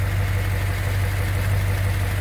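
A 1957 Mercury Turnpike Cruiser with a 368 V8 idles smoothly, a steady low rumble with an even pulsing throb, loud and close throughout, with no talking.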